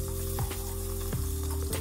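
Garlic and the white part of chopped onion fry in hot oil with asafoetida for a moong dal tadka, a steady close sizzle running throughout with a few clicks and clatters breaking through.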